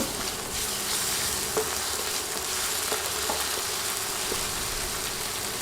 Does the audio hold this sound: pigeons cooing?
no